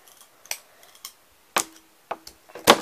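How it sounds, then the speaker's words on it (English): A few sharp, snipping clicks spaced irregularly, the last two louder and closer together, as cheap scissors cut through thin sticks in a quiet room. "just gotta cut more sticks"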